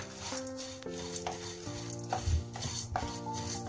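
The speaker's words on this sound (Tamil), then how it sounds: "இதில் எண்ணெய் விட்டு வறுக்க வேண்டாம், ட்ரை ரோஸ்ட் தான்." Idli podi ingredients dry roasted in a pan without oil over medium heat, a spoon stirring and scraping in repeated strokes with faint rustling, close and fairly quiet, no voices.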